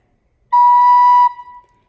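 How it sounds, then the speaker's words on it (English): One clear, steady recorder note, a B, held for under a second, pure and flute-like, ending with a brief soft tail. "I'm trying to play a B. A B should sound like this."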